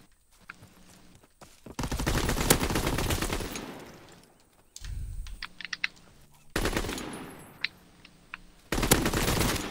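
Bursts of rapid automatic gunfire from the World War II shooter Call of Duty WW2 during a one-on-one match, loud repeated volleys separated by brief gaps and scattered single shots.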